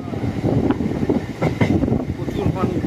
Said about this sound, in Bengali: ট্রেন এখন ঢুকতে চলেছে মুর্শিদাবাদ স্টেশন।